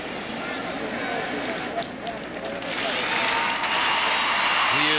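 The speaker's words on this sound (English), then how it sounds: "Gets a good round of applause from the fans here at the Silverdome" Fans in the Silverdome stadium at a 2001 Division 3 state football final applaud an injured player getting up, a broad crowd roar and clapping that swells midway and holds, with an announcer talking over it.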